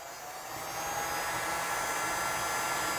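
A hair dryer or heat gun blows with a steady, close whooshing roar that rises slightly at the start, then holds.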